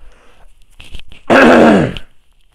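A person clears their throat loudly once in a long, rough rasp, preceded by quieter shuffling sounds.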